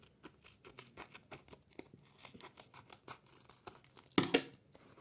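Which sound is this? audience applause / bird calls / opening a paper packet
opening a paper packet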